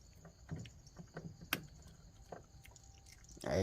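A dog bites and chews food, making a few quiet, scattered crunching snaps close by in an otherwise hushed room, with one sharper crack partway through.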